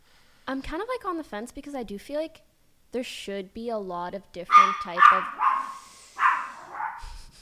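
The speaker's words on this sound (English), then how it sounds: "That's my dog." A pet dog barks and yips loudly indoors in a few quick bursts near the end, following a stretch of people talking.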